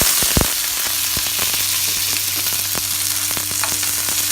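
Shallots, dried red chillies and curry leaves sauté in hot oil for a pumpkin stir-fry, giving a steady loud sizzle with scattered crackles and a few sharp pops near the start, with no talking.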